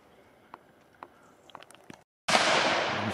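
A single loud, close shotgun blast at a pheasant shoot, cutting in after a stretch of quiet outdoor background with a few faint clicks and knocks.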